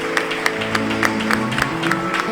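Church congregation clapping for the Lord during a Sunday worship service, a steady spread of applause with sharp accents throughout, over sustained organ-like music tones.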